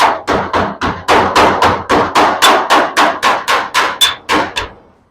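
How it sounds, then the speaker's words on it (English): A hammer striking sheet metal against a dolly along a classic car's bent roof lip, about fifteen sharp metallic blows in a quick steady rhythm, close and loud, fading at the end. "just take your hammer and dolly."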